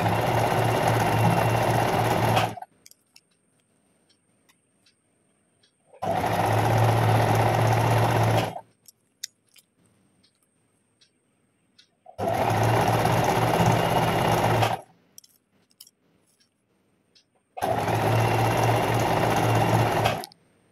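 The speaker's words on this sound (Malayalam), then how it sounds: "അപ്പം നമ്മൾ തയ്ക്കാൻ വേണ്ടിയിട്ട് പോവാണ്." A sewing machine stitches a bag in four loud, steady bursts of rapid mechanical whirring, each about two to three seconds long, separated by quiet pauses with faint handling clicks.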